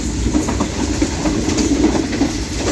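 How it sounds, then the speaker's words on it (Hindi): The 15 Up train runs through Chichawatni railway station with a steady rumble and rhythmic wheel clatter, loud and close, with no talk. "दोस्तों, चीचावतनी रेलवे स्टेशन को थ्रू पास कर रही है 15 अप।"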